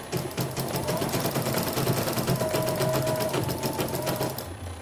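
A CNY E900 embroidery machine under repair for an unresponsive touchscreen runs and stitches, giving a fast, even mechanical chatter up close throughout, with no voices.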